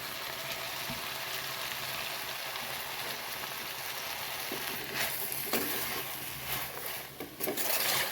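Pirandai with coriander, mint and curry leaves fries in a pan on low heat, producing a steady soft sizzle with occasional stirring scrapes and light clinks.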